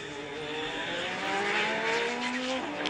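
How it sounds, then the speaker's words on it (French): Toyota race car at the 1994 Le Mans 24 Hours, its engine note loud and steady with rising and falling pitch as it runs at speed, the sound sustained throughout without speech. "La voici, Eddie Irvine véritablement déchaîné, le pilote irlandais."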